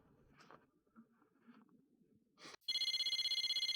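An electronic phone in the video game Persona 4 Arena Ultimax rings with a loud, steady series of rapid beeps that starts abruptly partway through, following quieter rustling sounds.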